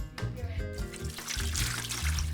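Tap water runs and trickles steadily as freshly churned butter is rinsed in a farmhouse kitchen in the Italian Alps, a soft splashing wash under louder background music.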